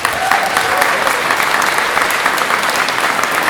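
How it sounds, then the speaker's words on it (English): An audience applauds at a community meeting about the Cranston Fire in Idyllwild, a dense, steady clapping from many hands sustained at close range for several seconds. "thank you for your applause"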